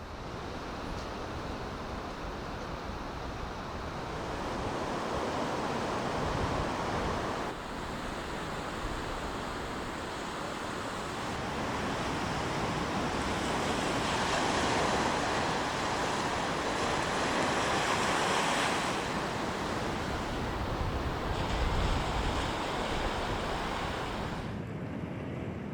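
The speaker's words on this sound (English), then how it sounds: "the rhythmic crashing of powerful Pacific coast waves" Powerful Pacific coast waves crash on the shore at Bandon, a continuous roaring surf wash that rises and falls in long swells, mixed with wind noise.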